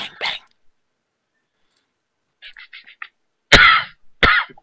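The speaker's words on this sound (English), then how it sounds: "the coughing is just getting really frustrating right now" A person coughs several times in short, sharp bursts, some close and loud, with gaps of quiet and faint throat sounds between, during a live tabletop role-playing session.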